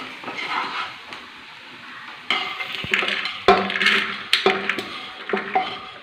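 Cooked lentils for a tamarind curry are tipped and scraped from a pan into a pressure cooker: a quiet lead-in, then clinking metal, spoon scrapes and sharp knocks against the vessel, close by.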